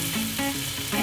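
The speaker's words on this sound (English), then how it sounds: "We're just going to sear the prawns." Prawns sear in a hot wok while noodles are being fried, giving a brief burst of crackling sizzle with soft scraping stirs underneath, fairly close and loud.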